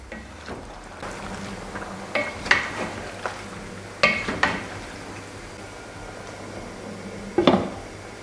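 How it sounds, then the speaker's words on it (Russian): Spoon stirring about 600 grams of red fish in a pan, then a lid set on top: a few sharp scrapes and clinks spread over several seconds, with a louder clatter near the end, against a quiet steady background. "Перемешиваем. И накрываем крышкой и тушим примерно 10 минут."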